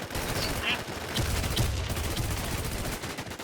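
Gunfire in a battle royale video game, with dense bursts of rapid shots and scattered sharper cracks in a continuous, noisy barrage at moderate distance.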